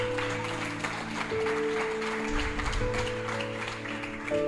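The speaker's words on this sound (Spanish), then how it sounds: "Dele fuerte ese aplauso al Señor" Church congregation clapping for the Lord during a Spanish-language worship service, a steady wash of applause running the whole time over sustained organ or keyboard chords.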